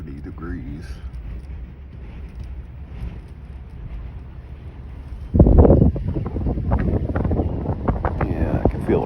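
Wind buffets a microphone beside the St. Lawrence River at Ogdensburg, New York, with a storm coming: a steady rushing rumble that swells into a heavy gust partway through, with people talking under it.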